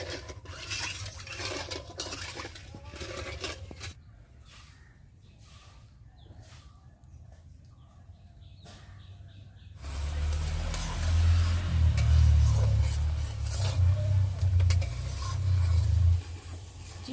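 Sugar syrup for a coconut sweet bubbles and is stirred in a pot, with a soft, uneven rasp of spoon and boil that grows louder and fuller partway through.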